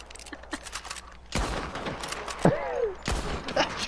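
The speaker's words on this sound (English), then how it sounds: "I'm getting shot. Who's shooting me in the back?" Bursts of gunfire hit a player in a video game, sharp shots breaking out at intervals over a steady background amid other game sounds.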